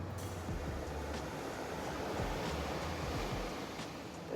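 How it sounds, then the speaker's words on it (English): Ocean surf at night on a dark, unlit shore, a steady low wash of waves rolling in continuously at a distance, fairly faint with no voices. "it sounds so nice to have like the ocean right here"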